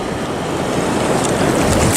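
Strong wind buffets the shore of a beach at low tide, a loud, close, continuous roar with rushing surf-like texture and no voices.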